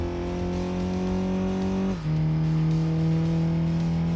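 A car engine in the PS1 racing game Gran Turismo 2 hums at a steady, buzzy pitch, dips briefly as a gear changes, then settles into a slightly lower, constant drone, loud and close with no talking.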